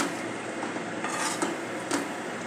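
A spoon stirs an aubergine and potato vegetable curry in a pan after the gas is switched off. The scraping is soft and rhythmic against a steady background hiss, with a couple of slightly louder scrapes near the end.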